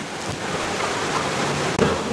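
Steady rushing water fills the scene, a continuous broadband roar like a nearby waterfall, with no voices.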